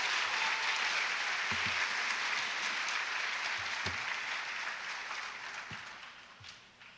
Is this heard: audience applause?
yes